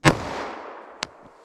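.38 Special revolver fired outdoors with Remington Golden Saber defense ammunition, one sharp loud shot followed by a long fading echo, then a fainter second crack about a second later.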